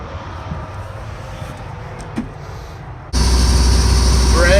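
Bread truck with a Cummins engine pulling away: a quiet interior hum first, then a sudden loud, steady engine roar and road rumble that swells and holds, with a rising whine near the end.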